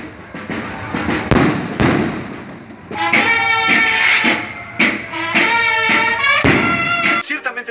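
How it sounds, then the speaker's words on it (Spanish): Loud firework rocket bangs burst in quick succession during a religious pilgrimage, some sharp and close, others rumbling, with crackling and whistling tones between blasts. "¿por qué chingados avientan cohetes"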